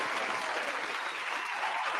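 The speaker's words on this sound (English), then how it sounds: "Round of applause for them showing up for themselves." Audience applauding young entrepreneurs at a live event, a dense, steady patter of many clapping hands that holds at an even level throughout, with no speech over it.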